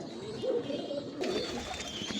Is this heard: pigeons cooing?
yes